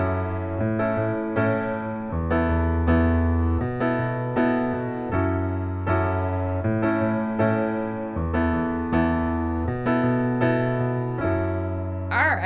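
A solo piano plays a song accompaniment in a guitar-like strumming style, with rhythmic repeated chords over a sustained low bass that shifts every couple of bars, steady and fairly loud throughout.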